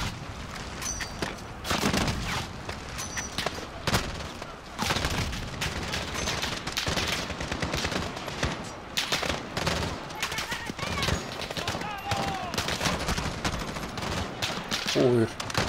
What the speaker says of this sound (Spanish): Es que es asomarse un poco y enseguida le cae una cantidad de tiros